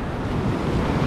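Mediterranean sea waves wash in with a continuous loud rushing surge, close by and mixed with wind buffeting the microphone.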